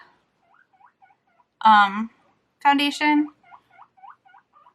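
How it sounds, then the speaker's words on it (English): Guinea pig squeaking in a room, a rapid series of short high chirps and squeals running throughout, with two louder bursts of a person speaking over them in the foreground. "you can definitely hear my guinea pig in the background making a lot of noise"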